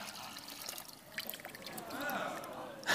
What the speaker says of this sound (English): Right, we're just going to pour that in there.